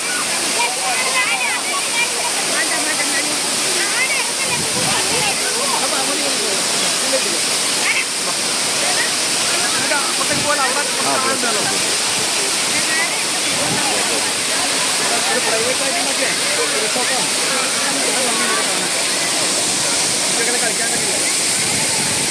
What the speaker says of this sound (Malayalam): അത്രയും മനോഹരമായ വെള്ളച്ചാട്ടം. അതിൻ്റെ ഒഴുക്ക്, അതിൻ്റെ ആരംഭമാണ് കാണുന്നത്.